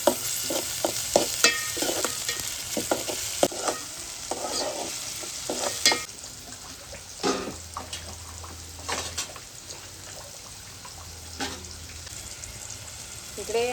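Onion and tomato frying in oil in a home kitchen, a constant sizzle punctuated by frequent scraping and stirring strokes in uneven bursts, heard up close with no talk.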